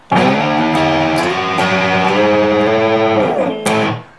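Electric guitar with stock pickups playing chords with a light, gritty overdrive, sustained and loud, briefly dipping near the end before one last strum rings out.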